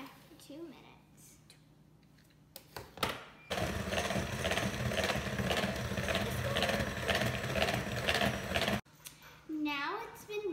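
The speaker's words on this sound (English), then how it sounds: "we're gonna use the mixer on high for 2 minutes" Electric mixer running on high through chocolate cake batter, a steady dense whirring drone held for several seconds after brief talk, then cutting off before a child-like voice speaks.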